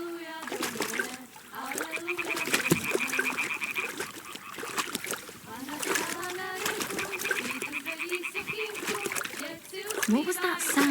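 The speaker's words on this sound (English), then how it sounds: "Throw a stone in the water near her to lure her away." A stone thrown into water in Kingdom Come: Deliverance 2 lands with a clear splash, over a bed of game music, frog croaks and trickling water, while a voice talks over it.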